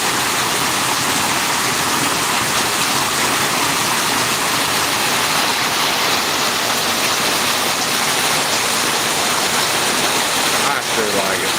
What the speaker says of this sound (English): the rain just come up